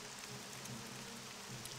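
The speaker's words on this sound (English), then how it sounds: "It's a nice rainy day." Steady, even rain in the video game The Elder Scrolls III: Morrowind, a continuous hiss of falling drops with low ambient hum underneath, with no talking.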